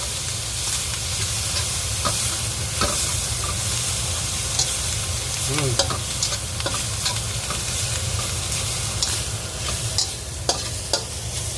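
Wine, sake used in place of rice wine, hissing and bubbling steadily as it is stir-fried and cooked down until dry for shiitake and shredded meat glutinous rice, with occasional scrapes of the spatula against the pan.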